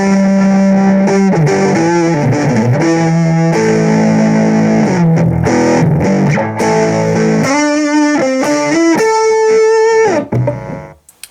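Electric guitar played through a Digitech RP200 multi-effects unit with heavy distortion, loud and up close, with fast riffs and single-note runs, then sustained bends that ring out and cut off cleanly at the end.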